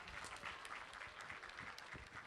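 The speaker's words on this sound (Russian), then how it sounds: "аплодисменты" Audience applause at a Kumyk community evening in a Ramadan tent in Moscow, a dense, even wash of clapping that holds steady throughout and sounds fairly distant and soft.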